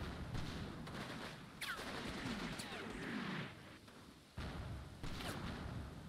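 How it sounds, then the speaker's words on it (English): Game gunfire in the Combat Mission: Red Thunder wargame: sustained rattling rifle and machine-gun bursts with occasional louder shots, steady and fairly close throughout, with a voice talking faintly underneath. "He's now shooting back!"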